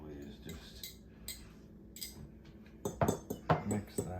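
A metal utensil clinks against a bowl while ingredients are mixed in a home kitchen, with faint scattered taps first and then a quick burst of close clinks and scrapes.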